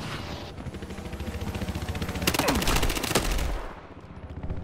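Gunfire in the Battlefield Hardline video game, with rapid repeated shots in a steady run and a louder blast from a rocket launcher partway through, close and intense.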